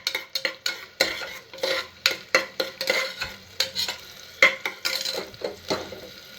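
Chopped onions fry in oil in a pan for a chana dal masala sambar, with a steady sizzle under repeated quick stirring and scraping strokes, close and moderately loud.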